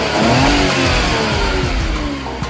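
Suzuki Carry small engine running after an idle up valve adjustment, loud and close with a slightly uneven, rough note that rises and settles.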